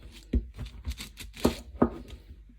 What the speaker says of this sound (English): And chopping ham is continuing.